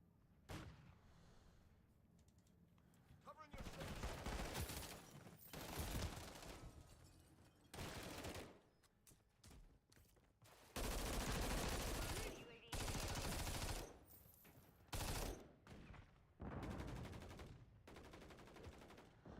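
Disney fireworks booming at a distance, a series of muffled thuds and rumbling bursts in irregular clusters, some swelling into sustained rolling volleys, faint overall and heard from indoors far away.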